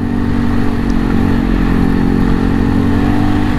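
The engine of a 2022 Segway AT6 SX 570 ATV runs loud and close in a continuous, rough mid-pitched drone, pulling steadily under power.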